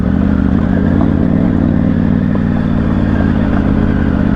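Triumph Tiger 900 motorcycle ridden off-road on a high-altitude mountain track at about 13,000 feet, its engine a steady, loud, close drone with low rumbling throb and light clatter throughout, no talking.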